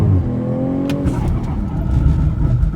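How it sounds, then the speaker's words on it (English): A car engine pulls hard under maximum acceleration in sports mode, a loud, close, rising roar that climbs in pitch, briefly breaks at a gear change, then keeps building with boost. "we're doing maximum acceleration and then maximum braking"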